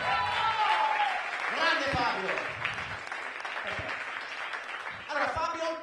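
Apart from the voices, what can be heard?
audience applause at comedy show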